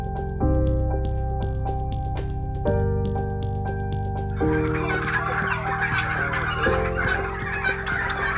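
Turkeys gobbling at a turkey farm in Kampung Kalkun, Undaan, Kudus, with repeated loud overlapping gobbles from a flock and a rising jumble of calls toward the end.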